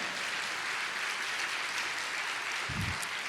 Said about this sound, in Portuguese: Vamos aplaudir ao Senhor porque Deus é bom.